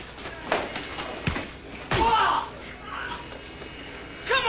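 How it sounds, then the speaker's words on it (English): A fridge door slammed repeatedly against an actor's head during a film stunt, giving several sharp thumps and slams in quick succession, with a voice calling out between the hits. "And then we were banging this fridge door against his head."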